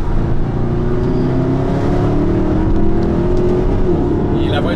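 A Mercedes SLS AMG with its stock naturally aspirated V8 idles and revs close by, a loud steady engine drone with rising harmonics, while someone talks over it.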